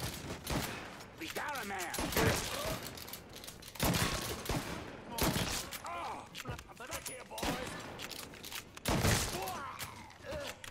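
Enemy gunfire in Mafia III pounds out in repeated heavy volleys, several loud bursts with ringing tails, while someone speaks briefly between shots.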